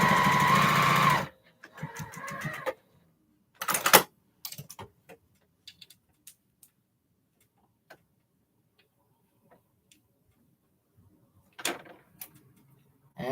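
A home sewing machine stitching a seam comes in short bursts of quick mechanical ticking, the first one loud and close, followed by sparse clicks and taps with long quiet gaps between them.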